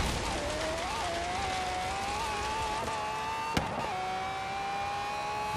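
Lamborghini Aventador LP750-4 SV in Forza Horizon 3 revving and accelerating in a straight line: a steady, moderately loud engine whine climbs and dips through gear shifts, with a brief click partway through.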